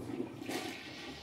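A toilet in an off-grid Earthship home flushes with recycled grey water from the shower, a steady close rushing swirl of water that swells midway and keeps draining throughout.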